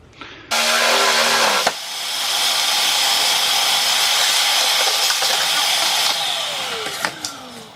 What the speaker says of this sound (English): Now I'm getting ready to cut the handlebars off because they're welded on this.